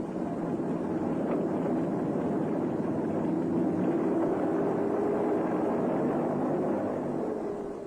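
Land Rover engine holding back the vehicle in low-ratio first gear on a descent, no throttle, brake or clutch applied; a steady, even droning hum with wind rumble, continuous and fairly close throughout.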